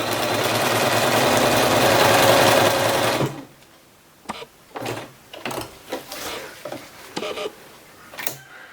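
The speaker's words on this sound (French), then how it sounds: "On positionne bien notre élastique au milieu de notre pied presseur et on y va. Donc on fait les premiers points" A domestic sewing machine runs fast and steady for about three seconds, stitching smocking with elastic thread, then falls silent apart from scattered small clicks and handling knocks of fabric and thread close by.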